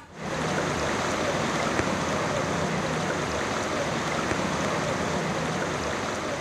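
Floodwater from an upstream torrent, swollen by heavy rain, rushes into a low-lying residential area in Bangladesh, making a continuous dense roar of flowing water that holds steady and loud throughout.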